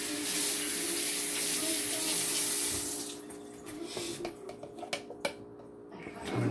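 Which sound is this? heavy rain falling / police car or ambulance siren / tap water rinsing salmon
tap water rinsing salmon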